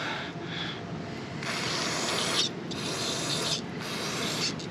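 Bolts being cleaned off by hand-rubbing while being prepared for torquing, giving a steady close scraping rasp with brief pauses and surges across the clip.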